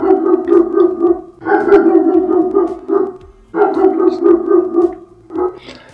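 Dogs barking and howling in drawn-out, tonal bursts, three long loud phrases separated by short pauses, close and without any talking.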